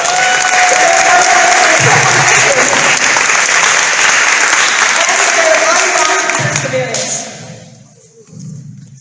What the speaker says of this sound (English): Can I please get an extra round of applause for them?